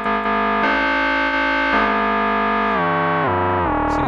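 An Arturia MicroFreak desktop synthesizer using its FM synthesis mode plays a loud, bright, buzzy sequence of sustained notes that step up and down in pitch over several seconds, with no talking.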